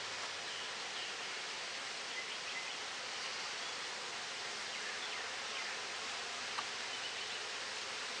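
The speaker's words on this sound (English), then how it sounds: "That's the bees moving out of the way." A soft, even hum of many honeybees moving in a hive close by, a continuous hissing drone with no voices.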